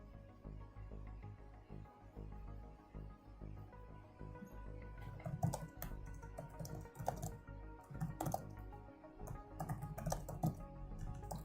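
Typing on a computer keyboard runs as steady, close rapid key clicks and clatter over a low background hum, with irregular bursts and brief pauses throughout.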